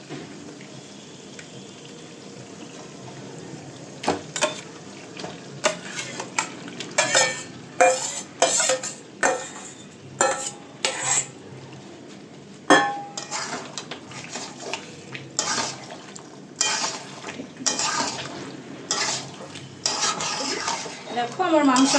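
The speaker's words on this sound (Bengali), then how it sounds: "এইবার এটার মধ্যে আমি যে মাংসটা ম্যারিনেট করে রেখেছিলাম দই দিয়ে, ওটাকে আমি এখন মিক্সড করছি" Yogurt-marinated chicken being stirred into cooked spice masala in a pan for chicken rezala, with repeated close metallic scrapes and clanks of a spoon against the pan over a soft sizzle, irregular strokes throughout.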